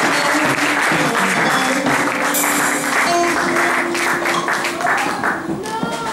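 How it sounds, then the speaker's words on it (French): A church congregation applauds loudly and steadily throughout, a dense wash of clapping with cheering voices mixed in, continuing without a break. "Est-ce qu'on peut acclamer très fort pour la gloire de Dieu?"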